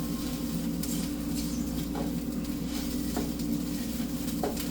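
Burrito bowl filling sizzles steadily in a pan while being stirred and mixed, a constant frying hiss with a few soft scraping clicks of the utensil, no talking.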